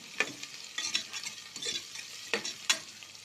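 A spoon stirs onion, green chilies and coriander frying in a pan, giving faint, soft scraping strokes in an uneven rhythm over a light, quiet sizzle with no talking.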